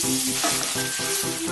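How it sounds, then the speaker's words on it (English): Onions and apples fry in olive oil in a pan over medium heat, giving a steady close sizzle with no talk. Faint rhythmic tonal banding runs underneath. "Adding my onions, and now I'm adding the apples. Cooking this over medium heat."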